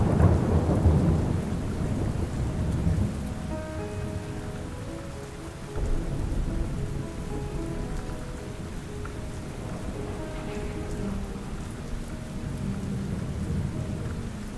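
A thunderstorm brings steady rain hissing on surfaces and a loud rumble of thunder at the start, with soft musical notes drifting through the downpour.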